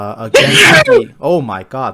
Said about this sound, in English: Oh, I sneezed so hard